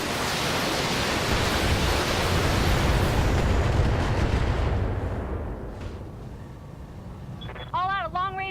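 Long-range missile volley launched in the mech combat game BattleTech: a loud, dense roaring rush of launches that swells and then fades, with a voice speaking near the end.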